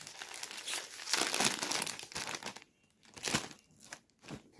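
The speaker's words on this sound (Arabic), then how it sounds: "نفتح الكيس رقم 6" A plastic snack bag from a box of Lolo Puffs being opened up close, bursts of loud crinkling and crunching plastic that come in uneven waves with short quieter gaps, no voices.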